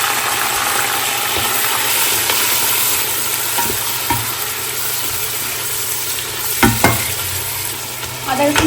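Onion frying in a pan for haleem, a steady sizzle running throughout with a few brief clatters of stirring near the end, close and fairly loud.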